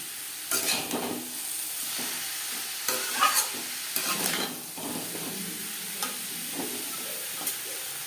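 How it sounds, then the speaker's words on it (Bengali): Beetroot and carrot being stirred in a pan with salt, turmeric and spices, a soft continuous sizzle beneath repeated scraping strokes of a spatula at irregular intervals, close and moderately quiet. "লবণ, হলুদ ও মশলা বিট গাজরের সাথে বেশ ভালো করে মিক্স করে দেবো।"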